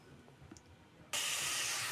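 Ground cumin paste and spices hitting a hot pan, bursting into a sudden loud, steady sizzle and hiss after a second of quiet kitchen clatter, close and continuous.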